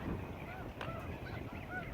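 A flock of geese honking at a distance near a strip of water, over steady wind and outdoor rumble, with a few calls rising briefly above the noise.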